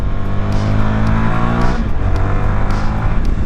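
A CFMOTO 300SS sport motorcycle engine revving while being ridden, a loud, close buzzing drone with rising and falling pitch and a brief dip as the throttle changes, heard alone without talk.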